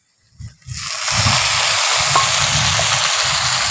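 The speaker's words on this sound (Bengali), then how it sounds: "পেঁয়াজের সঙ্গে টমেটো কুচিটাকে একটু ভেজে নিচ্ছি।" Chopped onion and tomato hit a hot pan and break into a loud, steady sizzle that holds to the end, after a few soft knocks and scrapes at the start.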